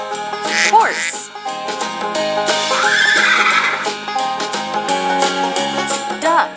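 A horse neighs and whinnies, quavering cries over a children's farm-animal game track with steady music underneath.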